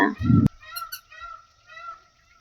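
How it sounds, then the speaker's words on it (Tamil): A peacock calls near a large Shiva temple, opening with a loud, close, honking wail, then fainter, thinner cries trailing off into quiet. "மயில் அப்படி கத்துச்சு, கேளுங்க."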